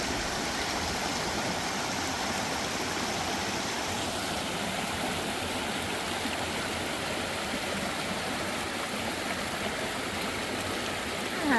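A small river along the Appalachian Trail flows with a steady, full rushing and babbling wash, continuous and fairly close, with no voices.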